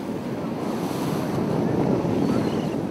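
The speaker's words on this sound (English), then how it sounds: "The wind is strong and the sea is loud." Strong wind and loud sea waves surround a tall ship at sea, a continuous heavy roar of surf and gusting wind buffeting the microphone, with no talking.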